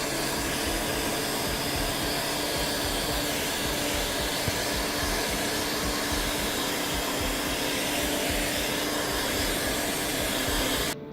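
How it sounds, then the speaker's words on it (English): A heat gun warming and softening helmet pieces blows a loud, steady, close airy roar that holds unchanged for the whole stretch and cuts off only at the very end. "we need to use a heat gun to soften them so that they will bend and actually connect better"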